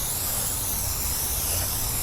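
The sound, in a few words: spray painting a mini split air conditioner unit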